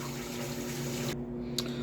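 Running water rinses bleached hair bundles, a steady close hiss of flow over a low hum that cuts off abruptly near the end, followed by a faint splash.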